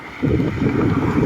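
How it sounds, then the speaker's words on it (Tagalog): Strong wind gusting against a microphone outdoors, near a cyclist pausing on a ride from Pagudpud, a steady low rumbling buffet that swells loudly after a brief quieter start and holds without talk. "Lakas ng hangin eh."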